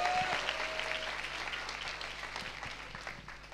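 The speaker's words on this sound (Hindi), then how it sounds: "जोरदार ताली बजा के प्रभु को धन्यवाद दो।" A church congregation in Udaipur claps on New Year's Eve to give thanks, a dense round of applause that starts strong and slowly fades in loudness.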